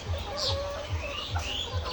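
Chickens on a layer hen farm, white and red birds, cluck in short repeated low pulses close by, with higher squawks and calls from other hens scattered across the flock.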